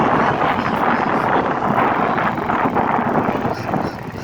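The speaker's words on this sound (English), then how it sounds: "Just a rich person with a helicopter flying over the beach" A helicopter flies over a beach at Fort Myers Beach, Florida, a steady loud rumbling drone with wind buffeting the microphone throughout.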